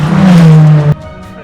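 A Praga race car in a Britcar Endurance Championship race crosses the finish line, a loud close engine tone held steady for about a second before cutting off sharply as it passes.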